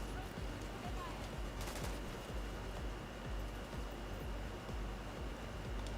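Sustained bursts of automatic gunfire in The Division 2, dense overlapping shots forming a steady roar with a louder volley near the start and no speech.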